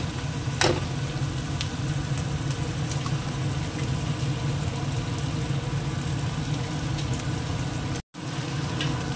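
An egg cracked into a pan of hot oil with chopped tomato and green chilli, frying with a steady, close sizzle and a faint crackle that runs on without pause under a low background hum.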